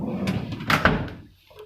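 A storage drawer on an S6100 anesthesia machine slides shut, giving two quick close thuds against a faint background murmur.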